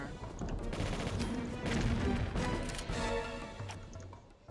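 Grenade launcher firing in Tomb Raider IV, a loud, dense barrage of booming blasts and crackling impacts that roll into one another with barely a pause, thick low rumble throughout.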